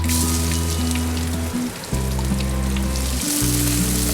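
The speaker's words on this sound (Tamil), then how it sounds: "ஒரு பெரிய வெங்காயம் வந்து சாப் பண்ணி வச்சுருக்கேன். ஸோ அதை நான் போட போகிறேன்." Chopped onion hits hot oil in a pan, a loud, dense sizzle that crackles continuously, with a steady electric hum underneath and no talking.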